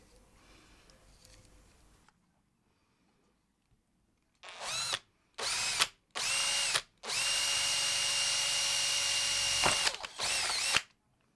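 A power drill with a 14 mm cutter bores a hole through an Akrapovic dB killer baffle from a KTM Duke exhaust, a high whining drill run in several short bursts and then one long sustained pass, close and loud.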